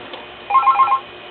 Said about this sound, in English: and that phone rings.